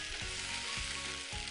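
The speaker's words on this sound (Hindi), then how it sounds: "बस हल्का सा इसकी एक तरह से भुनाई हो रही है अदरक लहसुन प्याज की।" Ginger, garlic and onion sautéing in a hot pan give a loud, continuous close sizzle, with low, rhythmic scraping strokes from stirring beneath it.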